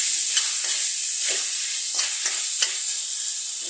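Tomatoes sauté over high heat in a hot pan, giving a steady bright sizzle broken by several soft scraping stirs of a utensil, close and loud, with no voices.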